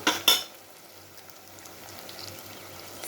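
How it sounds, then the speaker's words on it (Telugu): Ginger garlic paste frying in hot oil in a pan for a chicken curry, opening with two brief loud bursts of sizzle and a metal clatter that settle into a steady, low frying hiss. "అల్లం వెల్లుల్లి పేస్ట్ వేసి కొంచెం సేపు ఆయిల్లో ఫ్రై చేద్దాం"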